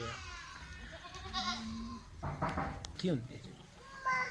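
Goats on a goat farm bleat a few times at close range, short wavering calls scattered among quiet livestock background noise and faint talking.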